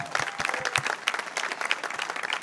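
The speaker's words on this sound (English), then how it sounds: "big round of applause for all law enforcement all over the country" Dense, lively clapping from a stand-up comedy crowd fills the whole short stretch, close and continuous with no talk over it.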